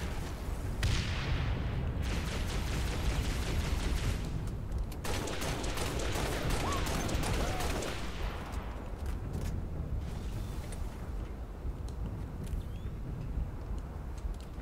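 Grenade blasts in Halo Reach's Sword Base mission on Legendary: loud, booming detonations burst around one, five and ten seconds amid a steady din of continuous gunfire, with no talking.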